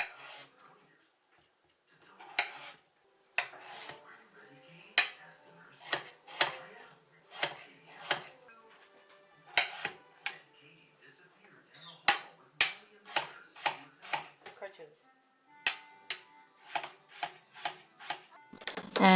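A knife chops a peeled, rinsed potato into small chunks on a board, making crisp, sharp taps in quick irregular runs with brief pauses between bursts, close and fairly quiet.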